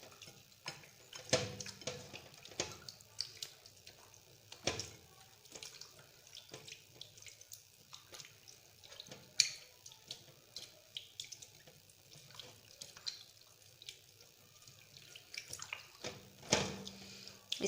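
Tap water runs steadily into a kitchen sink while fish is washed, with soft splashes and clatter of handling in the basin, fairly quiet and near, no one talking.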